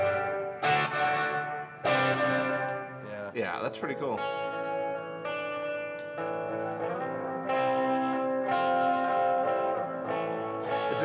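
Reverb preset from the POLY Verbs plugin on a sustained, tonal musical passage with a roomy wall-like tail; the processed sound rings continuously and fairly loud, with a brief spoken remark over it.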